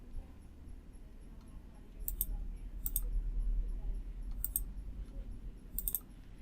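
A computer mouse gives a few soft, distinct clicks spaced a second or so apart over a quiet background hum.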